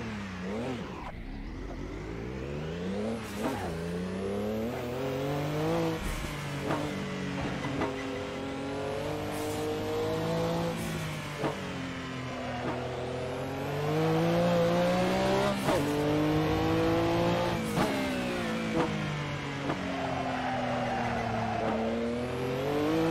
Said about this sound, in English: What about trying to beat Stefan Peloff's 6 minute 11 seconds record at Round Nordschleife in his Porsche 962C?